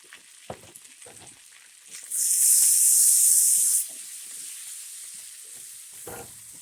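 Garlic dropped into a hot pan of butter for blackened shrimp bursts into a loud steady sizzle for a couple of seconds, then settles to a softer frying hiss with faint stirring clicks.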